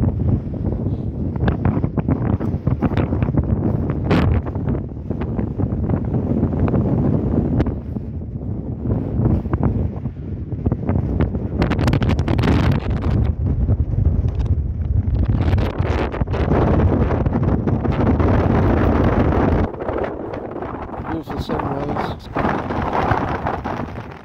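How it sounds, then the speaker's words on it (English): Strong wind on an exposed hilltop at the Twmbarlwm Iron Age settlement buffets the microphone in loud, rumbling gusts that roar continuously throughout, swelling and easing without a break. "Very windy though, my hands being blown about."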